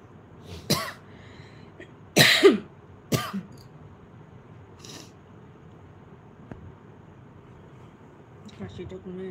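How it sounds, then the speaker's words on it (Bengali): A person coughs in a few harsh, close bursts with a short gap between them, then the room goes quiet apart from faint background noise. "কাশিটা কমে গেছিল, আবার কাশিটা হচ্ছে"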